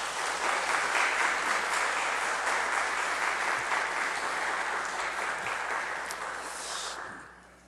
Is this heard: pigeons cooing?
no